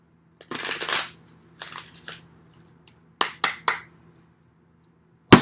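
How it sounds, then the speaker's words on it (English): Tarot cards being shuffled close by in a few separate bursts: a long riffle, a shorter one, then three quick snappy shuffles and a final sharp tap, with no talking. "Last card. Let's shuffle."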